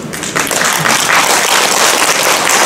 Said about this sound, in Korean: 여기에 호응하신 분만 박수 한번 쳐보십시오